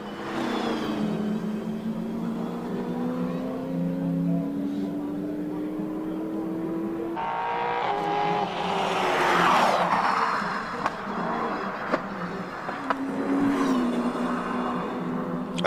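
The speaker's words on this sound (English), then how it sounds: "Let's listen to this AMG in a Lotus Exige." An AMG-engined Lotus Exige climbs a hillclimb course, its engine howling through rising and falling gear pulls with sharp shifts, passing fairly close then fading, while a commentator talks over parts of the run.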